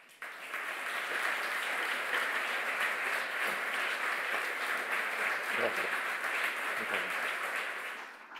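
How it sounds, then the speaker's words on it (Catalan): Long, steady audience applause following a formal academic speech, a dense wash of many hands clapping at an even level for several seconds before fading at the end, with a few faint voices beneath. "ha rebut un aplaudiment llarguíssim, com s'ha vist, i entusiasta"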